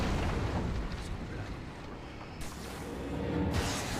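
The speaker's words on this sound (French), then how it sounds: "Là, il y a l'explosion." Explosion in the video game Alan Wake, a heavy rumbling boom spread across the clip with noisy bursts and crackling debris, loud and continuous, with no talk on top.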